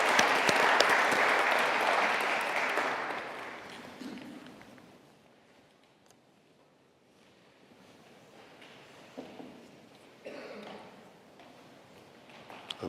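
Audience applause welcoming a speaker to the podium at an event in London: loud, full clapping for several seconds that tapers off into a quiet room with faint shuffling and a few stray claps.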